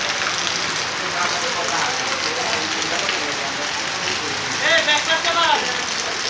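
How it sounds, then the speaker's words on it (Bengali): A heavy downpour hisses steadily at a market in Bangladesh, a dense unbroken roar close by, with a few faint voices rising briefly near the end. "একেবারে মুষলধারে বৃষ্টি হচ্ছে"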